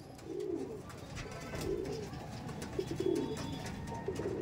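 Paired Madrasi pigeons, a male and a female, coo in repeated soft throaty bursts close by over a faint background hum.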